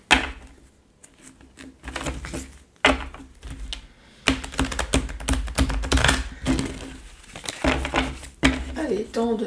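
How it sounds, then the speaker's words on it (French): Tarot cards being shuffled by hand close up, giving quick irregular papery riffles and taps in bursts with brief gaps, while someone talks softly in French. "Allez, temps de mélanger les cartes."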